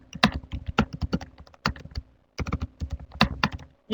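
Keystrokes on a computer keyboard while a Microsoft Word document is edited, arriving in quick irregular bursts of close, crisp clicks with short pauses between runs.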